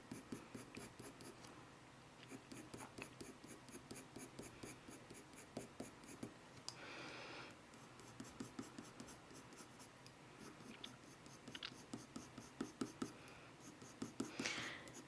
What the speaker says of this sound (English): you can do your fur strokes this way